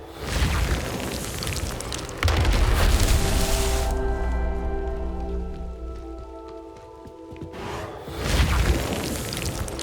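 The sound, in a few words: Confringo explosion spell from the video game Hogwarts Legacy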